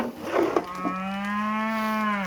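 A cow lets out a single long, low moo that holds steady for over a second, close and loud, after some brief rustling.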